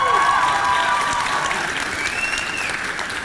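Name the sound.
audience applause at school assembly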